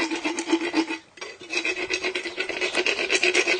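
An equine dental rasp giving a horse's teeth a final polish, rapid rhythmic rasping strokes close up and loud, with a brief pause about a second in before the filing resumes steadily.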